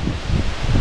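Strong wind gusting beside a small river with water lilies, a low buffeting roar swelling and easing in short waves, loud and close, with no voices.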